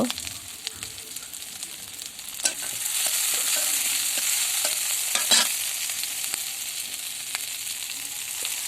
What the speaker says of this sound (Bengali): অল্প একটু তেলে আমি সব কিছু একটু ভাজা ভাজা করে ভেজে নেব।